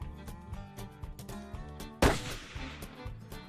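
A single loud rifle shot fired during a zero check on a whitetail hunt, a sharp crack at mid-clip with a long rolling decay over steady background music, no voices.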